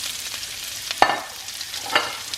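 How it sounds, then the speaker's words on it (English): Onions and peppers fry in a large pan with a steady, soft sizzle. Two sharper scrapes of stirring cut through about a second apart. "you're going to end up putting your onions and all your peppers in this one pan"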